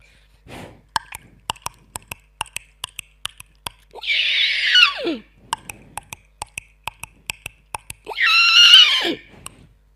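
A performer's voice imitates a horse at a mimicry show, giving two loud, bright whinnies, each about a second long, between a string of sharp clicking clops that mimic hoofbeats, with no other sound around it.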